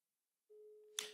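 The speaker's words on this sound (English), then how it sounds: "It's ringing." A phone rings through on the line, a steady single tone starting partway in and held close, then cut into by a sharp burst of noise near the end.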